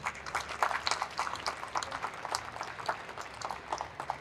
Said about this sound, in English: round of applause to Abby